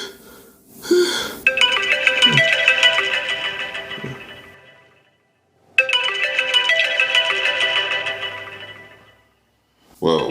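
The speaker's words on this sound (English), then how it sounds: "Well, what is this phone call?" A phone ringtone interrupts a rap music review, playing a bright melodic pattern in two loud bursts separated by a short silence, with a brief breathy gasp just before the first burst.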